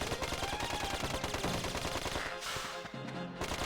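Rapid, continuous gunfire from a video game, Dark Cloud 2, a dense stream of shots packed tightly together at steady loudness for the whole stretch, with busy game effects layered over it and no talking.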